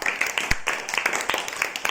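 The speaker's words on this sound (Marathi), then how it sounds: "जोरात टाळ्या वाजा सगळ्यांनी" A group claps for the winner of a matchstick puzzle game, with scattered, moderately loud applause lasting the full stretch and a faint voice underneath.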